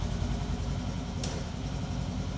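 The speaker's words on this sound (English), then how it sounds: "start the engine and allow it to idle for 1 to 2 minutes" Polaris RZR trail engine idling during an oil and filter change, a steady low rumble, close and continuous, with a brief sharp click midway.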